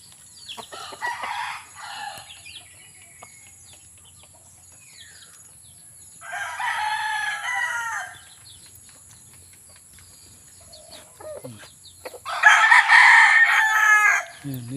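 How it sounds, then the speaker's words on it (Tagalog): Roosters crow in three long bursts, spaced several seconds apart, with scattered clucking and faint chirps between them. "Ang daming manok oh."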